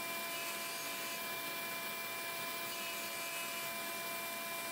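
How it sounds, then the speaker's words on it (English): A surface grinder takes a deep, full wheel-width pass across a rusty Suburban Tool magnetic chuck, giving a steady, continuous whining rush with faint tonal hums and no talking. "this grinder is just handling it beautifully"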